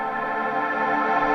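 Reversed wet-only Valhalla reverb swell, a soft pad-like wash of sustained tones rising gently in level, quiet and steady with no voices.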